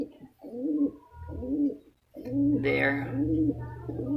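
Pigeons coo in a loft with repeated low, rolling, throaty calls, close and steady, while someone talks over them.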